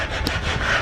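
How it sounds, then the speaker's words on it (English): Sanding a wall surface in preparation for skim coating during house construction in the Philippines, a brief, close, continuous abrasive rubbing scrape with no talk. "Oh, he's sanding it."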